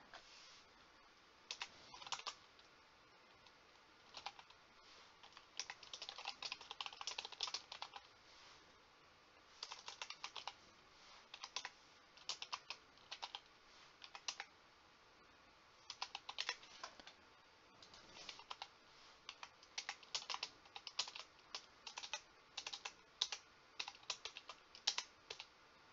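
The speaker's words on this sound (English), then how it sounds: "I'm sitting here typing" Typing on a computer keyboard at a desk, with quick bursts of key clicks and short pauses, close and fairly quiet, steady throughout.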